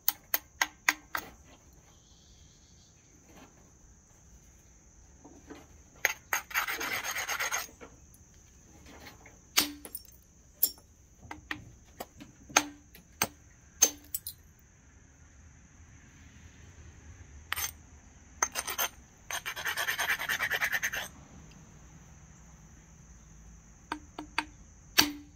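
Flint knapping on a chert blade while thinning and shaping it: sharp isolated clicks of stone striking stone scattered across a quiet background, with a couple of stretches of scraping abrasion and a faint steady hiss throughout.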